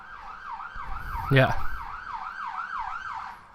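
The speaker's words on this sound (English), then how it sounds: "You can probably hear sirens going past now" An emergency vehicle siren wails with a steady rising-and-falling sweep as it passes along a central London street, loud and continuous, with a brief voice and a short burst of traffic noise partway through.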